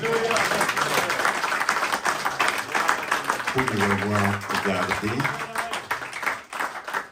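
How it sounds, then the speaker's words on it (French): A church congregation applauds in praise, steady clapping under a voice that speaks briefly, with a low hum and faint chanting partway through. "Applaudissez un peu pour notre Dieu"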